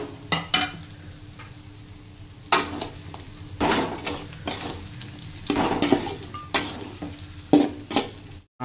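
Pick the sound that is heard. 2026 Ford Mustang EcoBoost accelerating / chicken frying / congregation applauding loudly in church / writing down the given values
chicken frying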